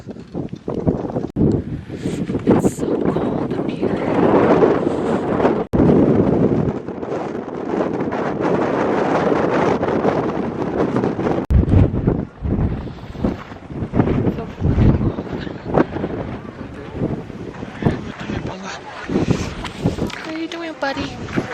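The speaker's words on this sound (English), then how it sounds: "it's really windy" Strong, cold wind roaring and buffeting against the microphone near the summit of Haleakala in Hawaii, loud and continuous with gusts, and a voice speaking briefly beneath it.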